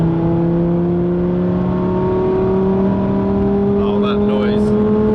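A Lamborghini Huracan STO accelerates hard on a de-restricted Autobahn, its engine a loud, steady rising drone with road roar throughout and a short higher whine near the end.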